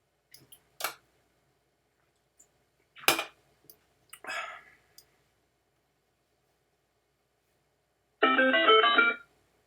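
A smartphone notification alert: a brief electronic tone near the end, after a few scattered faint clicks and taps in an otherwise quiet room, with no talk.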